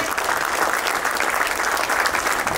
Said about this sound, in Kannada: ದಯವಿಟ್ಟು ಒಂದು ಎದ್ದ ನಿಂತು ಜೋರು ಚಪ್ಪಾಳೆ ಕೊಡೋ ಮೂಲಕ ಅವರಿಗೆ ನಾವು ಅಭಿನಂದನೆಯನ್ನ ಸಲ್ಲಿಸೋಣ